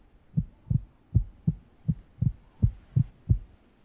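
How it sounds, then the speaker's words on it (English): A rapid heartbeat thumps in a steady, quick rhythm of about nine soft, low beats, close and muffled, with nothing else around it. "A rapid heartbeat can signify a myriad of things."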